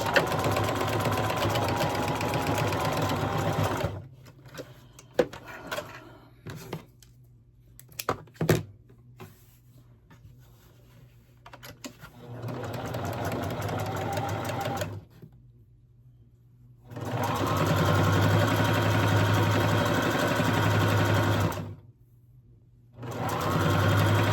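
A sewing machine runs in several bursts while back-stitching a quilt top for an American flag quilt, with steady close whirring runs broken by quieter gaps, clicks and handling noises.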